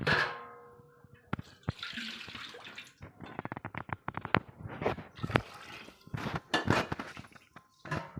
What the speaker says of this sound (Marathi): त्याच्यामध्ये पाणी टाकते